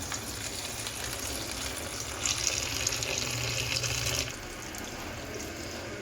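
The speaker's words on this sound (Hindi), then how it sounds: "थोड़ी थोड़ी पालक डालकर खुले पानी से हम इसको अच्छे से वॉश कर लेंगे" Tap water runs steadily into a bowl as fresh spinach leaves are washed in it, a continuous splashing rush that grows slightly louder midway before easing back to a gentler flow.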